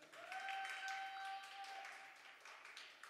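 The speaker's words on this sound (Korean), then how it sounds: "다시 한번 박수 쳐주실까요?" An audience at a university freshman orientation claps for about three seconds, a faint, steady patter of many hands that tapers off toward the end.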